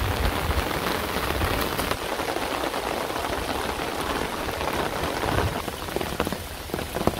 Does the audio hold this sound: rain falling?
yes